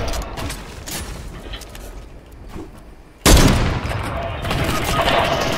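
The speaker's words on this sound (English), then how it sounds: "He's got a minigun, you can take him out easy." Gunfire from a Fortnite match, with scattered sharp shots early on and then a sudden loud burst of sustained fire that continues to the end, matching a minigun.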